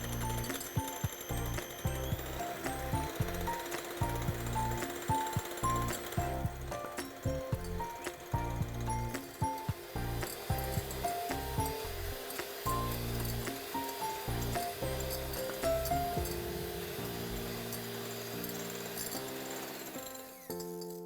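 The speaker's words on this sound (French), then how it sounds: "Nous pouvons commencer par mélanger nos blancs d'œufs en neige." An electric mixer whips egg whites to stiff peaks in a kitchen, a close, continuous mechanical whir with rattling, uneven beating pulses for a long stretch before it winds down.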